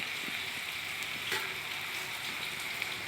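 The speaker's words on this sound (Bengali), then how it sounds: "দেখি আলু উস্তা ভাজি।" Potato and bitter gourd frying together in a pan make a soft, even sizzle with light crackling and occasional stirring clicks, close and alone.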